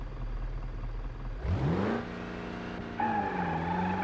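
A Ford Transit-style van engine in BeamNG.drive revs up sharply with a rising whine, settles into a steady drone, then climbs again with a higher-pitched tone, loud and alone without voices.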